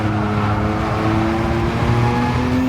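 Lamborghini Countach QVX race car with around 900 horsepower accelerating uphill on track, a loud, close engine roar with rising tonal whine held steadily throughout, no voices.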